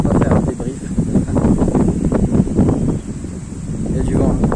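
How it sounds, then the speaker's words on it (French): Wind buffeting a microphone outdoors, producing a continuous loud low rumble with gusty swells, with someone speaking in French under the noise. "Il y a du vent."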